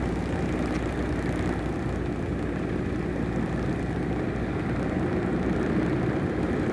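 An aircraft airlifting a large statue section gives a steady, low, droning engine rumble at moderate distance, continuous throughout with no voices.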